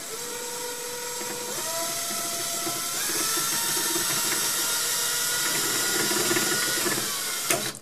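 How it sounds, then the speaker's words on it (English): A small drill with a tiny bit whines steadily at high pitch while drilling a pilot hole, its tone stepping up as it bites in, running continuously at close range with a brief click near the end. "And I'm going to just try to drill a pilot hole."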